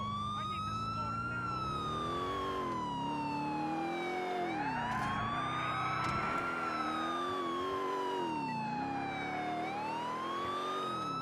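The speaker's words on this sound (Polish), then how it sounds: "Włączaj syrenę." A police car siren in the video game GTA IV wails continuously, sweeping slowly up and down in pitch, loud and steady with engine noise beneath.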